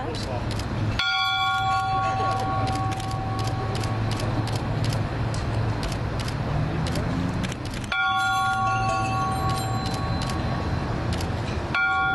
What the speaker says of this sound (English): let's go ring a bell